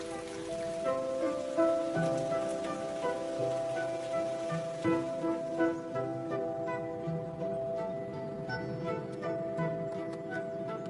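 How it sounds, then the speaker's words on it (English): Rain pattering steadily on a water surface in a Japanese snow monkey habitat, with dense dripping ticks over a soft continuous hiss, moderately loud and close. "rain creates magic on the water's surface"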